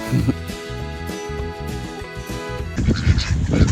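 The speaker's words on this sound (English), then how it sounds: "I'm out here feeding the ducks and chickens." Farm ducks and chickens loud at close range, with repeated honking quacks forming a dense, overlapping chorus, then a rougher burst of noise near the end.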